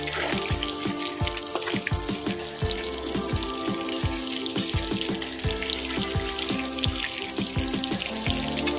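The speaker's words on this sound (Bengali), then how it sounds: "আমি এগুলোকে বেশি ভাজবো না, একটু গোল্ডেন ব্রাউন করে ভেজে নেব।" Chital fish balls frying in hot oil until golden brown, a close, steady sizzle peppered with many sharp crackles and pops in an irregular rhythm, with no talking.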